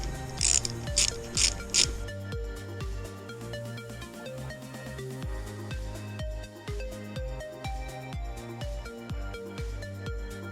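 A ratchet wrench loosens the fuel tank nuts on a Suzuki GSF Bandit 600 S motorcycle, with close, rhythmic clicking of the pawl in repeated bursts, preceded by a few brief bright metallic sounds.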